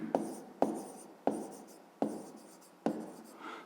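Pen or chalk writing an explanation by hand during a fifth-grade maths lesson, with sharp taps marking each new stroke, five distinct strokes over a few seconds followed by scratchy scribbling, close and clear with no voice.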